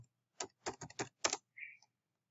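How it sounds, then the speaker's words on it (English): Typing on a computer keyboard, a quick cluster of about five close, crisp keystrokes followed by a short soft tone, quiet and otherwise silent. "Just type the name of the axis"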